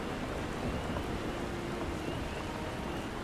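Steady rain falls in a forest in Final Fantasy XIV, a dense, even hiss of drops that continues unbroken at a moderate level throughout.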